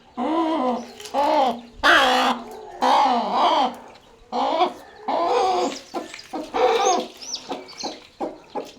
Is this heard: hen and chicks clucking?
yes